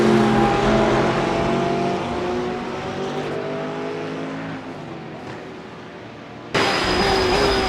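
A race car at Spa in iRacing roars at high revs, its engine tone sliding down and sustained, then a sharp jump to a louder, higher note near the end.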